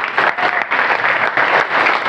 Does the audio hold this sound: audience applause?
yes